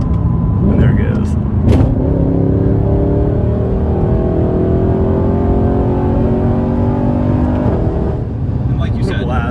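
Sporty Audi RS5 or R8 exhaust note, loud and close, holding a steady droning roar with rising harmonic tones through most of the stretch, easing slightly near the end.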